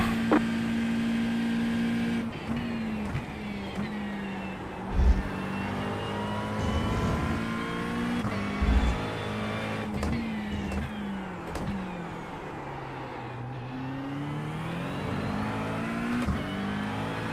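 Engine of a Porsche GT3 race car in iRacing drones loudly and continuously, its pitch sweeping up and down through shifts and corners, with bursts of tire scrubbing and a few sharp pops.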